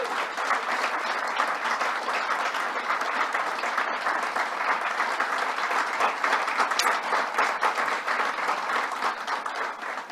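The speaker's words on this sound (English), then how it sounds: "Let's give her a round of applause." A crowd applauds a legislator at an event with New York's governor, a dense, sustained clapping that holds steady for about ten seconds.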